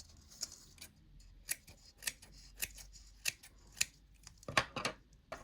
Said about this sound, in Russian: Ножницы сравниваем вот с колпачком и подрезаем.